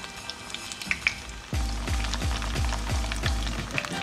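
Chicken Manchurian pieces fry on a medium-high flame, a steady close sizzle that swells in abruptly partway through and pulses with a low rhythmic throb, with no talking.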